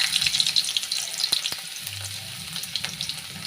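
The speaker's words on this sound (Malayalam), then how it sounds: "ലേശം എണ്ണ ഒഴിച്ച് കടുകിട്ട് എന്താണ് കറിവേപ്പിട്ട്" Mustard seeds and curry leaves fry in hot oil in a pan, a close continuous sizzle with small sharp pops and crackles.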